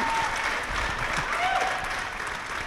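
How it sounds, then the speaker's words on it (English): An audience claps again for a teen video contest finalist, a full, steady burst of applause from many hands, fairly loud and sustained, with scattered voices and a brief whistle-like tone mixed in. "You can clap for him again."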